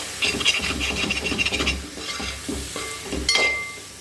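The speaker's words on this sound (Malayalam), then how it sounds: "എല്ലാം കൂടെ ചേർത്ത് അങ്ങോട്ട് വഴിച്ചെടുക്കുക" Tomato, ginger, garlic, green chili and masala powder being sautéed together in a pan for a Kerala-style dry fish and tomato dish, a close sizzle under rhythmic scraping and stirring strokes, with a brief sharp scrape near the end.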